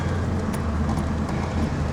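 A 1960s Morris Minor's engine runs steadily while driving, a low, even rumble with road noise heard from inside the cabin, continuous and fairly loud.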